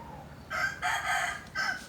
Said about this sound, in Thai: ก็ต้องขออภัยเสียงไก่ด้วยนะคะ